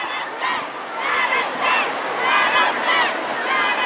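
A concert crowd at a show screams and chants the song title in loud, rhythmic waves of massed voices that swell and fall repeatedly.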